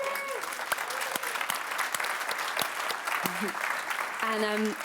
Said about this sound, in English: I think it deserves such a huge applause.